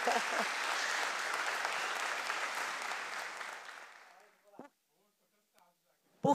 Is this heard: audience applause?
yes